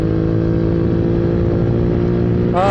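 A chopper motorcycle engine runs steadily while being ridden, a loud, continuous low rumble with a rise in pitch near the end as it accelerates.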